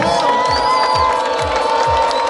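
Football supporters celebrating their club's historic promotion to the top professional league, a loud, close crowd cheering and whooping with rhythmic clapping pulses and shouts, sustained throughout.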